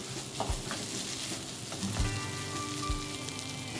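Mutton pepper fry sizzling steadily in a pan over a low flame, with a dense, even crackle and a few soft knocks from stirring, close and moderately loud.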